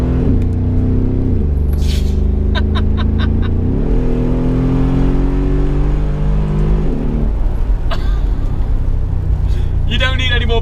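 Brabus G700 Widestar V8 engine revving in rising and falling sweeps from inside the cabin, with a deep rumble throughout and voices talking over it.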